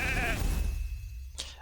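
A single wavering sheep bleat from the game RAID: Shadow Legends, loud and close, followed by a short sharp effect sound and a low background rumble.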